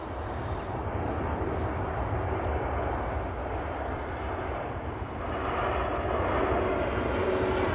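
A KLM airliner at Manchester Airport gives off a steady, loud jet roar that holds continuously throughout, swelling slightly toward the end, with no talking.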